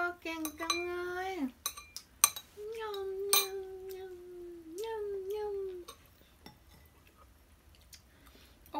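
A small child scoops food from a dish with utensils at a family meal, making several light clinks and scrapes of metal against the dish, while a high-pitched voice talks and sings softly in between.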